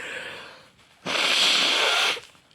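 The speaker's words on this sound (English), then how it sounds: "Apologies for the sniffles." A single sharp, breathy nasal sniff from a person with COVID, lasting about a second, close and fairly loud, after a quieter hiss of breath.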